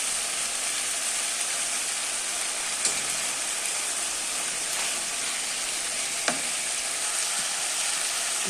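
Chunks of meat and winter squash sauté in a pot with a steady, even sizzle and crackle, broken by a couple of faint clinks of stirring.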